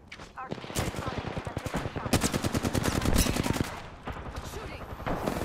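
Rapid automatic gunfire in the battle royale shooter Apex Legends, dense bursts of close shots rattling continuously through the moment, with brief talk mixed in.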